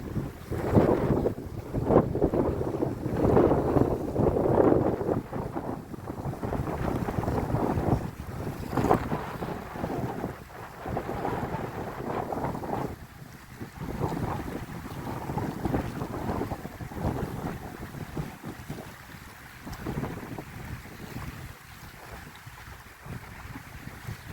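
Steady wind buffets the microphone in loud gusts while kayaking at Coney Island, with a low roar of water and boat noise underneath, no voices.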